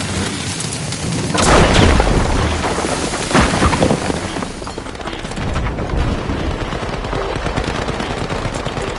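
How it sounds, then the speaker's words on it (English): A grenade detonates in The Finals amid a chaotic firefight: a sharp loud burst near the start, followed by rapid gunfire cracks and further booms rattling on through the whole stretch. "Grenade out."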